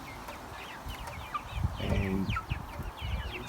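Backyard chickens cluck and chatter in a garden, several soft calls overlapping at mid distance, with a fuller burst of clucking near the middle and brief talk in the background.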